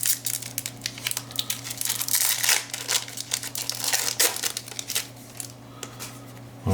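Disney Wonder sticker cards are pulled from a foil pack, with loud, close crinkling and crumpling of the wrapper in busy bursts that thin out toward the end.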